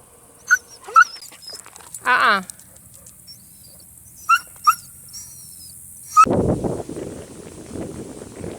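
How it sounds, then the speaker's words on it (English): A small dog whimpers outdoors on a windy day, giving a few short high whines and one longer wavering cry, then a burst of wind buffeting closes the clip; a voice speaks faintly. "This little dog right here does not like wind."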